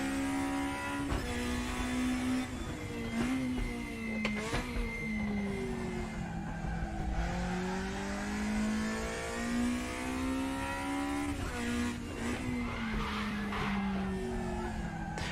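A race car in the RaceRoom racing game revs steadily on the throttle, with no one talking. Its engine pitch rises and dips through gear changes, with intermittent tire squeal and skids. The sound stays loud and continuous.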